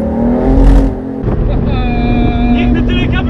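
A BMW M4 convertible driving on Warsaw streets with the top down, its engine rising in pitch under heavy wind buffeting, while passengers talk over it.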